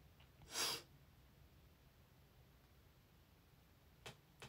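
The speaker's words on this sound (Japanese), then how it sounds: "くしゃみでそう。" A single short sneeze from a young woman, fairly close and fairly loud, rising and fading within a moment against a quiet room, followed a few seconds later by two faint brief breaths or sniffs.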